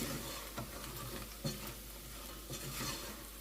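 Flour toasting in a pan for New Mexico red chile sauce, a soft, continuous sizzle with faint scrapes and taps from a utensil stirring against the pan, close and quiet with no talking.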